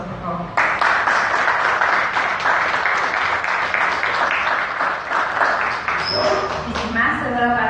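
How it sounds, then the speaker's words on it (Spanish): Loud, sustained applause from a large audience at a book presentation begins after a brief pause and continues steadily, with a few voices calling out near the end. "Un fuerte aplauso, por favor."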